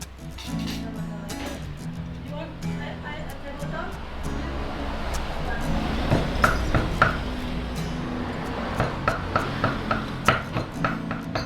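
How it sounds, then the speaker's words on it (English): Rapid knife chops through pork on a cutting board, sharp repeated thuds quickening near the end, over a busy background of street noise and chatter. "Chopping up the pork."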